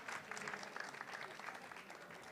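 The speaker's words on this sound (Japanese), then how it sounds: "どうぞ拍手をお送りください" Applause from the audience at the Japan Latte Art Championship 2019 final, a steady, fairly dense clapping wash that runs through the whole moment at moderate level, with faint voices mixed in.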